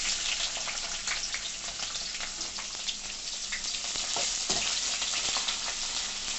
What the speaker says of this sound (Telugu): కొద్దిగా బ్రౌన్ అయినాక ఇది కొద్దిగా ఇలా వేగాక ఉల్లిపాయలు వేసుకోవాలి